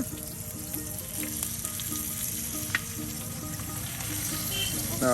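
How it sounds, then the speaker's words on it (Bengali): Pieces of pangas fish frying in oil in a pan for a village-style tomato bhuna, a steady dense sizzle throughout with small crackles and occasional stirring, close and continuous. "এই যে প্রিয় ভিউর্স দেখুন সুন্দর করে মাছগুলো ভেজে নেওয়া হচ্ছে"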